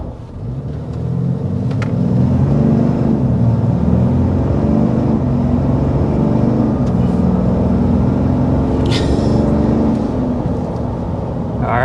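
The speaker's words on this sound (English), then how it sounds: "we need to go ahead and get a hard acceleration to show off what this new diesel is capable of" A 2025 RAM 2500 heavy-duty pickup with the 6.7-liter Cummins turbo diesel accelerating hard, heard from inside as a loud, steady low engine rumble and road roar held for the whole stretch, with a brief whistling rise near the end.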